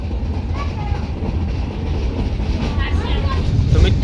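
A meter gauge train runs through the Gir countryside of Gujarat, giving a continuous rumbling roll with clattering wheel noise on the rails, heard from on board with faint voices in the background.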